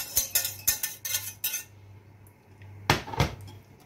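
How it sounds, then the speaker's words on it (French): Hot cream being mixed into white chocolate for a passion fruit ganache: a rapid series of close utensil clinks against a bowl, then a pause and a couple more knocks. "On va mélanger le chocolat et la crème."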